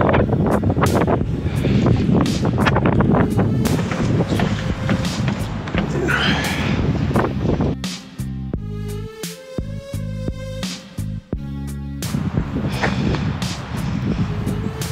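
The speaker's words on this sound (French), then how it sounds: "Avec le vent qui est là, on restera pas là longtemps." Strong wind buffets the microphone during an ultra trail run in Forillon, a steady loud roar with gusty surges and a brief lull in the middle, with no voices.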